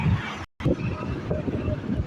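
Hot wind blows in harsh 42°C summer sun, a steady rough buffeting roar across the microphone that cuts out for a split second and then resumes.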